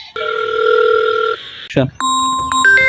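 A telephone rings with steady electronic tones, briefly interrupted by a short clatter, then a higher-pitched ring continues. Close and fairly loud.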